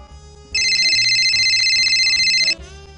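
A cell phone ringtone bursts out during a meeting, a loud, sustained electronic trill lasting about two seconds over quiet background music before cutting off abruptly.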